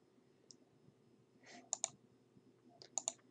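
Several sharp computer mouse clicks, a single tick and then two quick pairs of clicks, close and quiet against a low background hum, with no talk.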